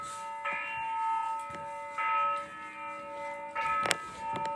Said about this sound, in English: Bell, bell, bell, bell, bell.